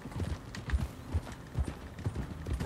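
Horse hooves clip-clop in a steady, even rhythm in Red Dead Redemption 2, clear and close, with no talking.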